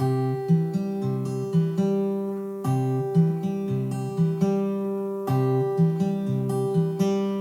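Guitar chords strummed in a steady repeating pattern, bright and close, with rhythmic chord changes and short pauses between phrases.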